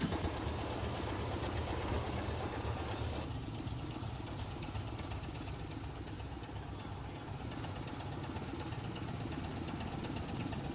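A British diesel locomotive fitted with a Sulzer 6 LDA power unit rumbles along with a steady engine drone and faint rail noise, heard at a moderate distance and fairly quiet.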